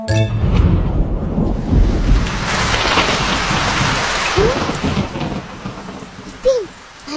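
Heavy rain pours down with rolling thunder rumbling through a storm, a steady loud wash of rainfall that eases slightly near the end, with a brief voice in the background.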